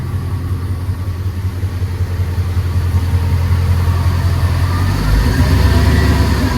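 A Mercedes E55 AMG engine runs steadily at idle nearby, then the throttle is pressed and the engine note rises and thickens as the rear suspension lifts itself; continuous, loud and without talking.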